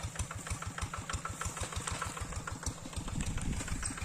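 An agricultural machine's engine idles in a rice field, a steady close chugging rhythm that thickens briefly near the end, with no talk.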